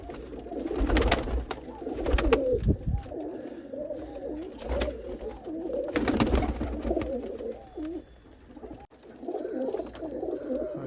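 Champion pigeons at a loft coo steadily in soft, rolling, repeated calls, close and moderately loud, with scattered sharper bird sounds and no talking.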